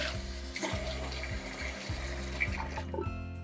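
Water is gently squeezed out of freshly dyed yarn over a sink, a steady close trickle and splash of running liquid that continues without pause before thinning out near the end.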